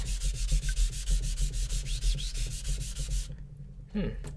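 A Zwilling chef knife strokes back and forth on a medium-coarse Japanese whetstone in a steady, rhythmic rasp of about a dozen close passes, then goes quiet.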